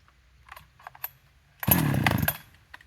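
Farmertec 372XP clone chainsaw with its idle set too low, faint sputters first, then a loud close burst of rough, low engine running for about a second before dropping away.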